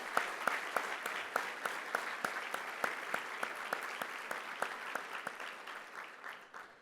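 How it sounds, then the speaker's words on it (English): Audience applause at a World Trade Week event, honoring supply chain workers, fills the room: steady dense clapping from a sizable crowd, with individual sharp claps standing out, fading slightly toward the end. "I'd like a round of applause for our great supply chain workforce"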